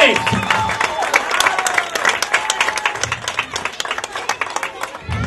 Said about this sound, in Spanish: quiero que se escuche la presencia de los niños y las niñas con un fuerte aplauso de todos ustedes